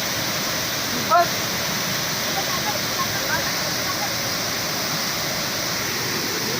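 A continuous rushing roar of falling water fills the scene, steady and fairly close, with a brief faint sound near the start.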